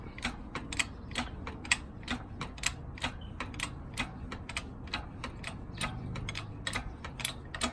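A manual press tool is pumped to push a bushing out of a Subaru Evo mustache bar, giving a string of sharp metallic clicks and ratcheting ticks at an uneven rhythm, close and moderately loud.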